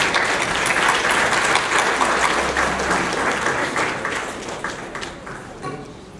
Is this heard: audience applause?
yes